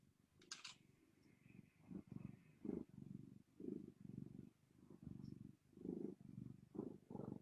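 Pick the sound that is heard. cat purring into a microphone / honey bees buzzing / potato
cat purring into a microphone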